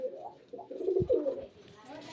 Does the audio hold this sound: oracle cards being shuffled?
no